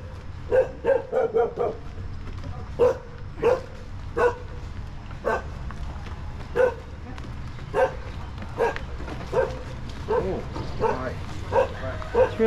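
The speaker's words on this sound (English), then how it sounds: "So we've got a nice friendly dog there too." Friendly farm or street dog in rural Vietnam barking in short bursts and single yips, repeated irregularly at moderate distance, over low engine rumble and occasional talk.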